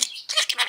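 A pet budgie imitates a chickadee call: three short, bright, chirpy bursts, close and fairly loud, with no other sound around them.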